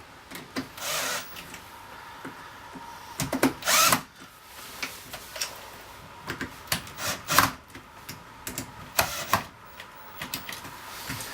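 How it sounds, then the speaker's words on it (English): Scattered short squeaks and scraping clicks of a screwdriver tightening door hinge screws, irregular bursts close by with no talking. "so I'm just going to tighten the other hinges up."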